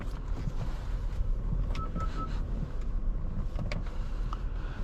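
A 2023 Acura TLX Advance SH-AWD drives on the road, giving a steady low cabin rumble of tyres and wind with occasional faint clicks and creaks heard from inside.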